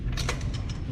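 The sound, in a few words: torque wrench tightening truck wheel lug nuts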